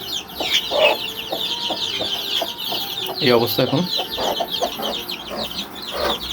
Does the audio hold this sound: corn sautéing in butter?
no